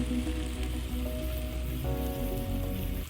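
Ground tomato poured into a hot pan while cooking a country chicken dish with dried red chillies, giving a steady, close, crackling sizzle that continues without a break.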